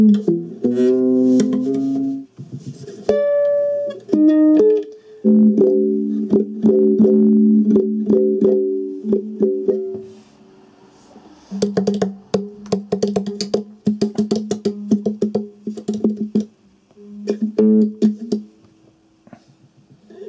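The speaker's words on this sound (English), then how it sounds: "I have recorded a number of more or less arbitrary guitar sounds using my ukulele guitar." A guitalele (ukulele guitar) plays looped, arbitrary-sounding plucked and strummed figures with sharp attacks and short pauses between phrases, clear and alone.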